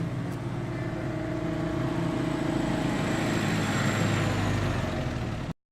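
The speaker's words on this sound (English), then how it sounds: "We downloaded the sound of a small truck moving slowly to a halt." A small truck rolls slowly and comes to a halt, its low engine rumble steady and moderately close throughout before cutting off abruptly at the end.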